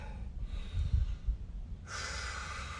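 Deep, audible breaths taken during a core workout, a few heavy inhales and exhales close to the mic, with a faint steady background after them.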